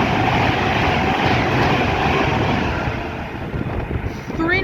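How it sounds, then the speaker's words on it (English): A Pendolino passes fast through Rugby station, its loud rushing roar of wheels on rail filling the clip and easing slightly near the end as a rising whine and brief noises cut in. "passing through now is a Pendolino going quite fast from"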